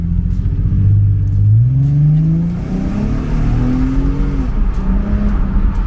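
A Nissan 370Z engine revs up close, its pitch climbing through a couple of gear shifts under steady road and exhaust rumble.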